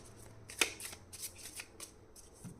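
Tarot cards shuffled by hand in a quiet room: a series of crisp riffling swishes and soft flicks, one louder snap near the start, then several lighter bursts spaced irregularly, close and alone without talk.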